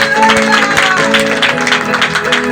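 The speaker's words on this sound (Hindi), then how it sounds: "जोर से तालियां" Applause from a congregation at a Sunday Holy Communion church service, a steady spatter of clapping hands lasting throughout, with faint voices and hum beneath.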